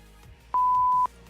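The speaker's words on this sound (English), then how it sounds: "Play the beep again." Two short electronic beeps are followed by a steady beep tone held for about half a second. The tone is loud and clean over a faint low background hum in a sim-racing stream.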